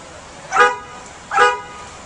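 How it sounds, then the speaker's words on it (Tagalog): Two separate car horn honks, each about a quarter second long, spaced under a second apart with a short gap of quiet between them. "Hit the horn, go on."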